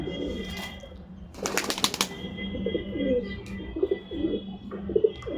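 A pigeon is let go and beats its wings in a sharp, brief flurry of flapping, while soft low coos from nearby pigeons rise and fall around it, close and moderately loud.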